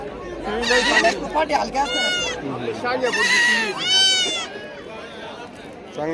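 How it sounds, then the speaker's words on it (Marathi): Goats bleating at a Saturday weekly livestock market in Shirur, Pune district, several loud wavering bleats in a row close by, with people talking in the background. "पहा यांच्याकडे एक शेळी आहे चांगली आणि बोकड पण चांगला आहे"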